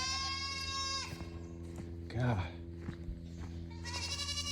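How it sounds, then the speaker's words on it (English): Goats bleating on a farm at morning feeding time, several harmonic cries at the start and end, with a person talking over them in the middle. "Listen to those goats."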